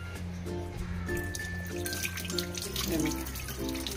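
Running tap water pours steadily over cleaned prawns rinsed in a kitchen sink, a continuous close splashing hiss with someone speaking over it throughout.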